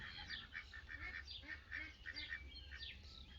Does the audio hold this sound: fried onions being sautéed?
no